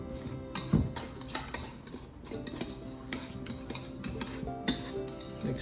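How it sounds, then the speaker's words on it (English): Jelly roll batter whisked by hand in a bowl, a quiet, busy run of rapid metal-on-bowl scraping and clinking with no talking. "mix in the last bit by hand. Just use the whisk that came with it here"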